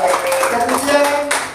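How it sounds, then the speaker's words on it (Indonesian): A church audience breaks into brief clapping at an evangelist mission school event, heard for little more than a second and mixed with a voice and tonal background sound. "Kasih tepuk tangan dong untuk Pak Yopi ya."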